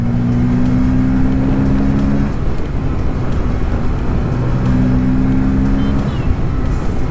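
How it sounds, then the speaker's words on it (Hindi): Motorcycle engine droning steadily on a highway with loud broadband road and wind rush, the throttle briefly held at a steady pitch twice before easing off, close and continuous. "थोड़ा थ्रॉटल की भी बात सुनी ना तो नींद खुलेगी।"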